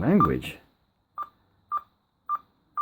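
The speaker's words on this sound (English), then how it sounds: "DTMF tones on" A Nokia D600 TETRA phone from 1998 sounds four short, evenly spaced DTMF key beeps, each a brief clean tone about half a second apart, right after a quick spoken word.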